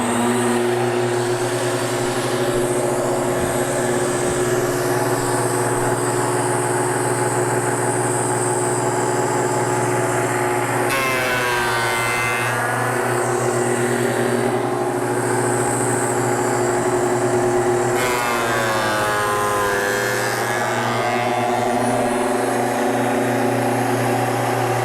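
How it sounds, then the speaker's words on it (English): A wood thickness planer runs loud and close with a steady motor hum and whine throughout, and two passages of rising, shifting tone come as boards feed through the cutter head. "So let's go ahead and go over to the planer."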